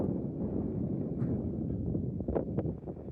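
Wind sweeps across the open Alvord Desert, a steady low rumbling roar buffeting the microphone throughout, with a few faint brief ticks near the end.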